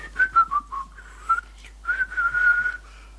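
A person whistles a light melody with clear pitched notes, a short phrase, a pause, then a longer sustained run, close and alone.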